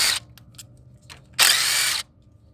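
Power tool spinning out 10mm ignition coil bolts on a 2007 Toyota Solara engine, two short bursts of whirring drill noise with a brief gap between them, close and fairly loud, with no voices.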